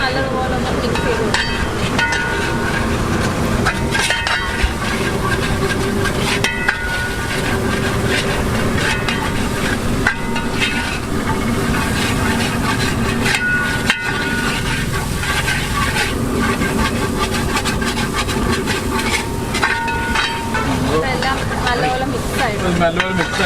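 Coconut masala for a Kerala mutton curry frying in a pan, with a dense continuous sizzle and scraping from steady stirring, loud and close, with voices in the background.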